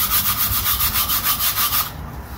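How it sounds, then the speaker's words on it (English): Stainless steel scrubber rubbed over a gas grill coated with cleaner, rapid rhythmic back-and-forth scraping strokes, close and steady, stopping abruptly near the end. "Did a little scrub with the stainless steel scrubber."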